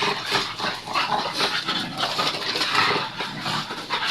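A puppy whimpering and yipping in short, restless bursts, close by, with soft rustling throughout.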